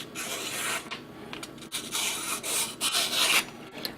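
A LamsonSharp rosewood knife slices through a paper shipping label, a close, raspy papery scraping in several long strokes with short pauses between them, fairly loud and with no talking.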